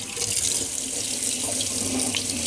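Kitchen tap water runs steadily into a sink while salt is rinsed off cured capicola meat, a constant close splashing hiss with no talk.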